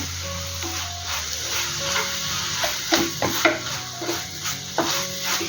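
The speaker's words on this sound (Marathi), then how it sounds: "मी वेलची टाकते आणि चांगले मिक्स करून घेते" Carrot halva being stirred in a pan after cardamom powder goes in, a steady sizzle underneath with repeated scraping strokes of the spoon against the pan, close and continuous.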